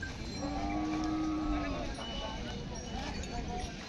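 A bull lows in a long, low moo over the busy murmur of a village cattle market, with people talking nearby and scattered hoof and crowd noise.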